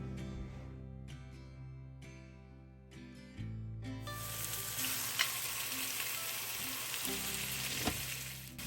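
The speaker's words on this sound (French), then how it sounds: "On va la préchauffer et on va venir saisir nos ossobuco." Pork osso buco hits a preheated pot and begins to sear, the loud dense sizzle starting partway through after quiet music and then hissing steadily with a couple of sharp pops.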